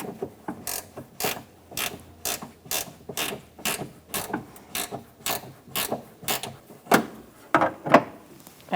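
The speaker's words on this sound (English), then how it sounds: "tighten it up with your ratchet wrench" A ratchet wrench clicks steadily while tightening a rear exterior door handle on a 2007-2017 Ford Expedition, giving a rhythmic run of close, crisp pawl clicks with a few louder strokes near the end.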